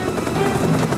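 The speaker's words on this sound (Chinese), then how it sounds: "暗夜之中，双螺旋桨战斗直升机轰隆轰隆作响，划破绿岛宁静。" A twin-rotor military helicopter as a sound effect: a loud, steady, close rumble of rotors and engine that fills the whole short moment without a break.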